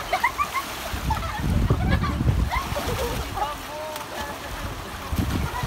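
Water churns and splashes in a river with a strong current as people swim nearby, with a continuous low rushing, scattered splashes and distant voices calling out, while someone talks over it.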